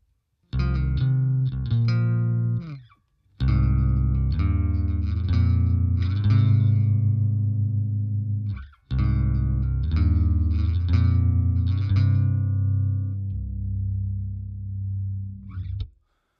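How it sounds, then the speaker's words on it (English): A clean bass guitar playing a sustained, melodic line through a Line 6 Helix multi-effects unit, with a slight chorus shimmer and two brief pauses between phrases. "you could hear very nice clean tone"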